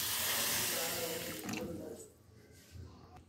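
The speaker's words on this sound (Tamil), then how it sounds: "இப்போ தண்ணி சேர்த்துடலாம்." Water rushes from a tap into a cooking pot holding wheat rava and moong dal for payasam, a loud hiss at first that tapers off and stops after about two seconds.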